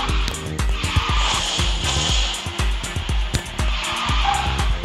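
A high-drift purple electric B-car drifts in Speed Drifters, its tires skidding and squealing under a steady engine roar, with repeated sharp thumps as it slides through the corner.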